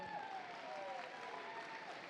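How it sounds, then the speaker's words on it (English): Audience applause at an FTC robotics state championship gold division finals, a dense steady wash of clapping filling the hall, moderately loud and unbroken, with faint tonal hum in the room. "Please give a big round of applause for these 6 remaining teams."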